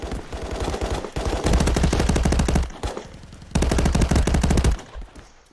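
Rapid bursts of automatic gunfire from the Meta Quest VR shooter Contractors, played on the Downtown map: two long, loud, close machine-gun volleys separated by a brief lull and single shots.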